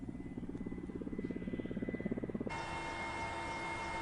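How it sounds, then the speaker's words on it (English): A warlord's helicopter flying over northern Afghanistan, its rotor beating in a steady, fast low thump for a couple of seconds before shifting into a continuous whirring drone with a high whine, loud and close, with no voices. "We flew there in a warlord's helicopter."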